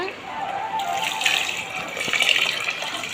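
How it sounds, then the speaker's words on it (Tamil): Water pours steadily into soaked rice in a pot for chicken biryani, a continuous splashing gush heard close up while someone talks over it. "நல்லா கலரி விட்டுட்டு இதில் தண்ணி சேர்த்துக்கோங்க."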